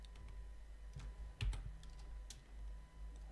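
Computer keyboard typing while JavaScript code is written, faint and sparse keystrokes scattered over a low steady hum, with one slightly louder clack near the middle.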